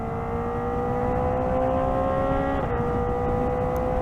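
Kawasaki ZX-4RR inline-four motorcycle engine on a stock ECU, running steadily at high revs on a highway, a sustained loud whine that holds pitch with a slight dip midway.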